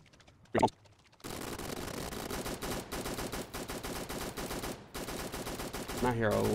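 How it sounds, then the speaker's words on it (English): Rapid bursts of automatic gunfire in the Roblox game Rust rattle on and off in long volleys, loud and close, with brief gaps and a short voice sound at the start. "I hear a lot of gunshots."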